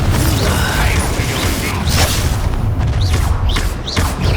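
Spells cast in Hogwarts Legacy combat boom, crack and whoosh in dense overlapping blasts with creaking, mechanical game effects throughout, loud and continuous.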